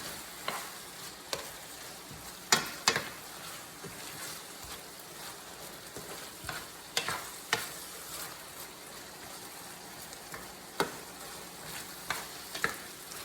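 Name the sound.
stirring tomato sauce into frying radish picadillo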